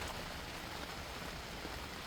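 Steady rain falls as a constant, soft hiss, with no voices or other distinct sounds standing out.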